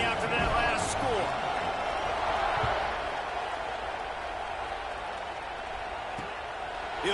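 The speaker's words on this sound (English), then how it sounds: "this crowd is buzzing after that last score" A stadium crowd in the College Football 26 video game keeps up a steady, dense roar after a score, loud at first and easing slightly, with faint thumps and a commentator's voice over it.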